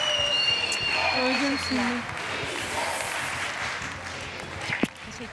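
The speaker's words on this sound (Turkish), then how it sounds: "Alkışlar." A studio audience applauds at a Turkish fashion competition show, a steady wash of clapping that runs throughout the clip beneath a woman's brief spoken exclamation.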